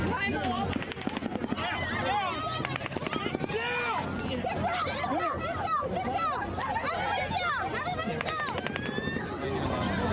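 Rapid bursts of automatic gunfire during the Las Vegas shooting, dense cracks clustered early and then a steady, loud din of crowd chatter, shouting and frightened voices throughout.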